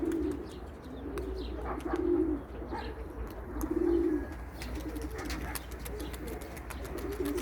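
Pigeons in a loft coo in repeated low, throaty bursts, with soft chirps and bird calls scattered around them and faint background noise.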